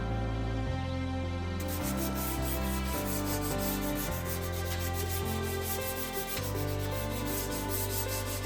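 A sanding sponge rubs back and forth over rough-cut lumber on a large antique apothecary cabinet, a close, continuous scratchy rasp in steady strokes, alone without talk.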